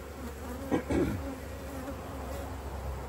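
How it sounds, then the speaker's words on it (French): A honeybee swarm hums steadily and fairly quietly close by, calling in the open sun. A few louder buzzing passes come early as single bees fly past. "les dernières abeilles que j'ai apportées appellent là"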